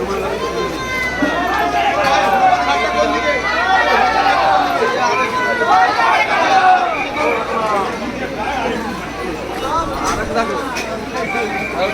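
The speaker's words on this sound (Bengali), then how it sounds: "প্রচুর জলযাত্রীদের ভিড়, সবাই যাচ্ছে, লোক ঢুকছে হুড় করে" A dense crowd of Shravan pilgrims carrying water walks the road to the Tarakeswar temple on the last Monday of the month, with continuous loud chatter and babble from many voices close by throughout.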